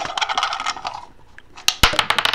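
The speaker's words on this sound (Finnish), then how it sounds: "Sieltä tulee kolikko." Coins clinking and rattling as one drops out of a toy box, a cluster of bright metallic clatters and jingles, close and loud.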